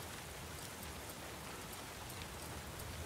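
Steady rain in the video game The Last of Us Part II, a constant soft hiss of drops falling on surfaces, even and unbroken throughout with no voices.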